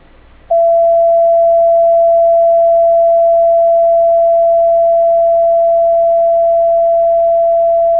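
A steady pure sine tone at 672 hertz, associated with the throat chakra, starts after a brief quiet moment and holds loud and unbroken to the end.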